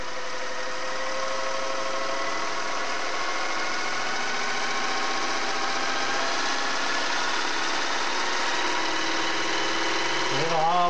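A Singer Model 401A sewing machine runs fast in a steady, even mechanical whir with a faint rattle. It holds close and loud for the whole stretch, and the motor winds up slightly at the end.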